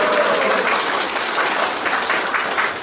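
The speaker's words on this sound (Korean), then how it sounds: "동지들의 힘찬 함성과 박수로" Delegates at a union's regular convention break into continuous applause with a crowd wash that may include cheering, steady and full throughout, heard from inside the hall.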